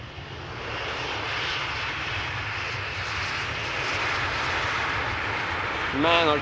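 A one-year-old KLM Embraer E195-E2 jet arriving at Amsterdam Schiphol gives off a loud, continuous engine roar that stays close and steady and rises slightly near the end, where a faint voice comes in.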